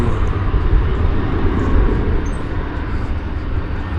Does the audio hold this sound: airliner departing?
yes